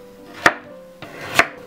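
A knife chops vegetables on a cutting board while preparing beet-pickled cabbage, two sharp, close, solid knocks about a second apart over a quiet background.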